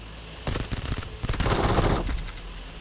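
Gunfire in the mobile battle royale game PUBG Mobile comes as two quick automatic bursts of rapid shots, close and loud, separated by a brief pause.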